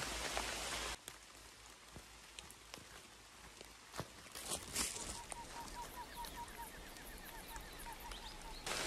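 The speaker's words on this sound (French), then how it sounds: "Et il continue de pleuvoir." Steady rain patters on surfaces outdoors, a continuous hiss with occasional louder drips, while faint bird calls chirp in the background.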